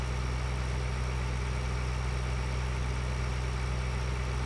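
A combine harvester engine idles in Farming Simulator 2013 on the USA map, giving a steady, even, low mechanical drone with a constant hum and no change in pitch or loudness throughout.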